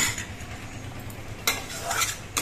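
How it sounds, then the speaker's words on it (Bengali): Tomato chutney simmers in a pan with a soft continuous bubbling sizzle while a ladle back presses and scrapes against the metal in a few brief, louder strokes. "হাতার পেছনটা দিয়ে টমেটো গুলো একটু গলিয়ে দিচ্ছি।"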